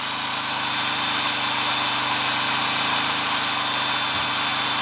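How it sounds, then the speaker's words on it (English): A big electric drill churns a slurry of cattail clay, giving a loud, continuous motor whine and hum that stays steady without a break. "got my big drill."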